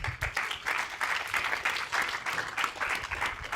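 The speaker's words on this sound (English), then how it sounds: "An applause for Miami" An audience at the ChangeNOW 2020 Climathon Awards applauds presenters from Miami as they come on stage, with moderate, pulsing group clapping heard close and alone.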